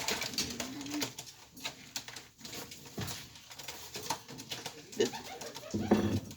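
Soft, low cooing from birds close by, repeated several times amid scattered rustling and light tapping noises.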